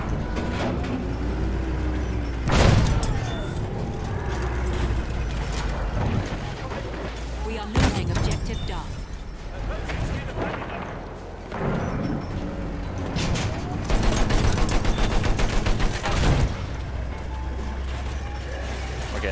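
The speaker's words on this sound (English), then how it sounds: "Somebody might be using the mortar tank here." Mortar tank in a tank combat video game firing several heavy booming shots at irregular intervals, with mechanical clanking and rumble between blasts and a voice talking over parts.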